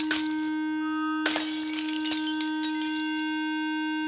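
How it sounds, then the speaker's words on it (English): A delicate wine glass breaks under strong sound vibrations: a loud steady tone sounds throughout, then a sudden bright crash of shattering glass with tinkling fragments that fade, no voices. "The vibrations were so strong that the glass literally shook itself to pieces."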